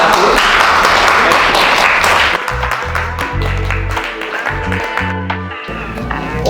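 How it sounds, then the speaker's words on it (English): Loud round of applause from a group at a healthy-eating cooking session, dense clapping for a couple of seconds that thins out as a voice starts talking. "a big round of applause for that"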